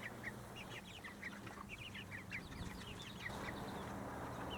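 Farm chickens clucking and calling outdoors at a moderate distance, a steady run of short repeated clucks mixed with a few duck-like quacks over a constant low background hum.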